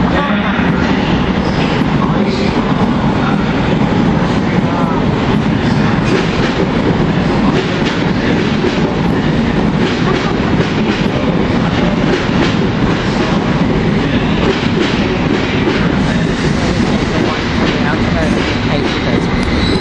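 A London Underground train on the Hammersmith and City line rumbles continuously with rhythmic clickety-clack of wheels on rail joints, loud and close throughout, with people talking over it.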